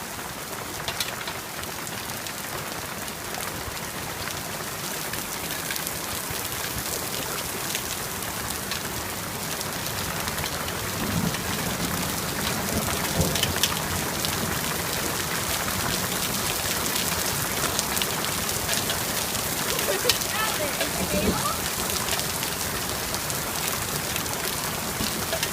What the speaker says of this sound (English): it is now officially hailing and really heavily raining